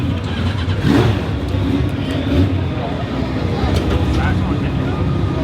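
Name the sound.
motorcycle engine starting and revving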